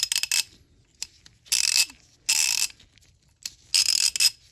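A Pittsburgh Pro extendable ratchet gives several sharp, close, buzzing ratchet clicks in four distinct bursts separated by silence.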